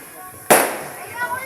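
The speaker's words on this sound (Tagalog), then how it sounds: "Kaya na, puro paputok." A single firecracker goes off at New Year with a sharp, loud crack, followed by a fading rumbling tail.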